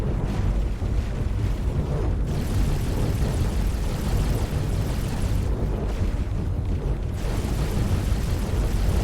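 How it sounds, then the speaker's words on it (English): A ship explodes during a space combat video game, making a dense, sustained rumbling roar with a few surging swells. It stays loud and continuous from start to finish, and no one speaks. "And kaboom. Explosion imminent. Your hull's almost gone."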